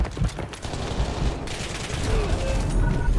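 Gunfire in Call of Duty: Warzone: a loud fusillade of dense, overlapping shots and bursts, close and continuous for a few seconds with faint talk beneath.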